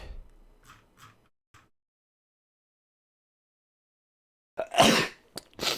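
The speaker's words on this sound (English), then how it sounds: "Good thing there's no one here to make fun of my sneezing." A loud sneeze bursts out near the end, followed by a second shorter one, after faint murmuring and a long quiet gap; it happens during a play session of Star Wars: Knights of the Old Republic.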